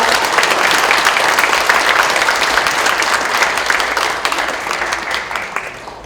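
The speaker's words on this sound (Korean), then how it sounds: "큰 박수 부탁드립니다." An audience at a book-launch talk concert applauds warmly for an arriving guest, a loud continuous wash of clapping that holds evenly for several seconds and then eases slightly toward the end.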